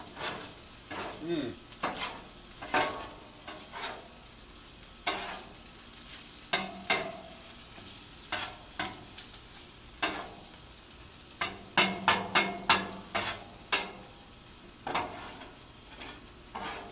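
Eggs being stirred and fried into fried rice, a low sizzle under repeated spatula scrapes and clinks on the pan, bunched in quick bursts, with a voice speaking briefly.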